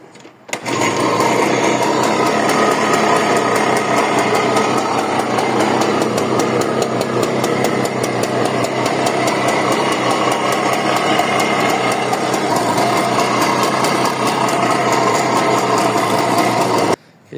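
A Lifan 80cc motorcycle engine runs steadily and loudly up close, its fast, even mechanical clatter holding a constant pitch for the whole stretch, with no voices over it.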